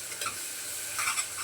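Coriander leaves stirring into sautéing onion and tomato in a pan for chole, a soft close sizzle with scraping spoon strokes around 0.2 and 1.1 seconds.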